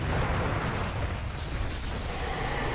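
Loud, continuous rumbling explosion blast from the Naruto Ultimate Ninja Storm 4 video game, broadband and sustained for several seconds without letting up, no voices over it.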